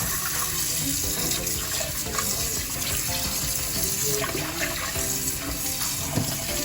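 Steady rush of cold tap water pouring into a pot of salt mackerel, continuous and fairly loud throughout, no voices.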